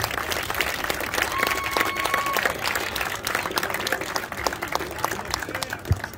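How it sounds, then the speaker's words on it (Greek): Warm, sustained applause fills a Brazilian jiu-jitsu tournament hall in Cyprus, dense steady clapping from the crowd continuing throughout with faint voices underneath. "Ήταν πολλά θερμό χειροκρότημα για εισόδους των καλύτερων αγώνων της ημέρας"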